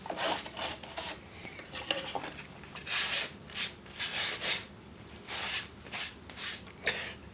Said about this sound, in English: now we just go ahead and we just wipe off the extra stain